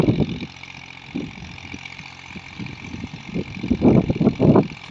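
A 1984 Massey Ferguson 240 tractor pulling a 9-tine cultivator across levelled farm ground, a steady low engine chug with rhythmic throbbing that swells louder toward the end, heard alone.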